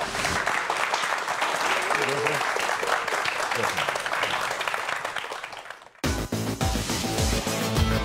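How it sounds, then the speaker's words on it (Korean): Steady, loud applause from a studio audience at a science lecture welcomes two guest speakers, filling about six seconds before cutting abruptly to a different background sound. "두 분의 주인공 박수로 모시겠습니다."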